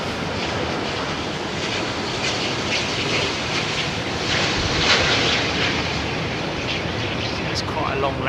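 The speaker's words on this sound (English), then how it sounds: "it's quite a long landing" An airplane landing at London Heathrow Airport gives a loud, continuous engine roar with rushing wind noise, holding steady with a slight swell midway while a person talks over it.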